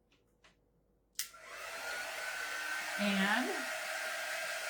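Hair dryer blowing on a craft board: a click as it switches on, then a steady, fairly quiet whirring rush of air that continues throughout, with a brief word spoken over it.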